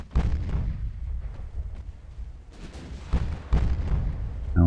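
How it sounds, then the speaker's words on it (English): Heavy naval guns of a warship firing a full broadside in Ultimate Admiral: Dreadnoughts, booming salvos and rolling thuds repeating every second or so, with echoing rumble and splashes between the loud blasts. "And we've got full broadside at the moment."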